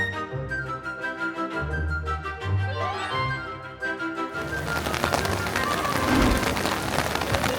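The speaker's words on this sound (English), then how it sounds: "Join us, Fresh Baked, on this rainy day at Disneyland" Steady rain falling at Disneyland on a wet day, a dense hiss of drops on surfaces building louder in the second half, with some music-like tones in the background early on.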